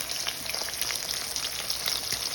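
Pampano fish frying in oil in a pan, a steady close crackling sizzle with scattered pops, loud and continuous throughout.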